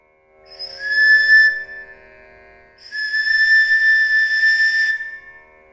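Two sustained, clear breathy bansuri flute tones, the second longer, with airy hiss around a pure pitch and a brief pause between them.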